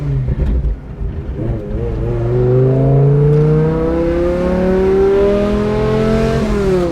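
A V10-swapped BMW E46 M3 revs up hard, its engine note climbing in a long, smooth, loud rising howl that continues close and strong for several seconds after a rough idle.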